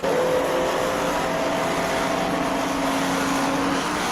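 Race cars, a Cobra and a Ferrari, circulating at Oulton Park, a steady engine drone with a rising and falling whine running throughout, heard at moderate distance with no voices.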